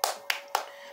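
Three sharp hand claps in quick succession, close and crisp, at a lively children's school sketch, with no talking over them.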